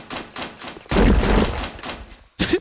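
Rapid bursts of gunfire from the video game Blood Metal sound close and loud, with quick repeated shots, a dense heavier volley in the middle, a short pause, then another burst.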